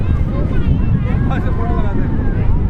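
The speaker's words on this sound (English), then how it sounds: "It is really, really windy." Strong wind at Juhu Beach buffets the microphone in a continuous low roar, while faint voices carry underneath.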